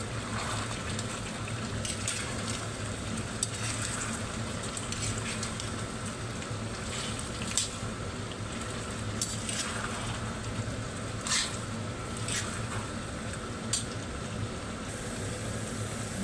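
Black gram lentils fry and get stirred in a pan with a spice paste of onion and chili, giving a steady close sizzle with soft crackles and occasional scraping throughout.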